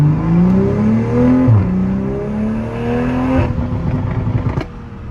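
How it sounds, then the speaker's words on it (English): A 2021 Toyota GR Supra with a Sila Performance catless downpipe revs with a smooth rising and falling engine drone, then lets out a crackling burst of exhaust pops and burbles as the revs drop, loud and close. "You can hear the pops and the burbles a lot"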